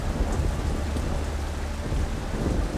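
Heavy northeast monsoon rain pours steadily over Singapore, a dense, unbroken roar with strong wind rushing through it in the warm tropical air.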